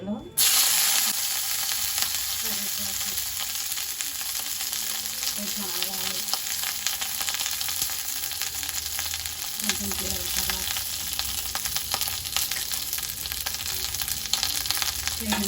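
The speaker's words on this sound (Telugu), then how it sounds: "తాలింపు చేసుకోవాలి" Steady, loud sizzling of spices and green chillies frying in hot oil for tempering a tomato-coriander chutney, a continuous crackling hiss with occasional stirring sounds, no voices.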